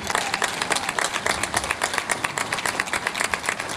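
Steady applause from a crowd at an International Women's Day (8M) gathering, dense rhythmic clapping that holds at an even level throughout without pause.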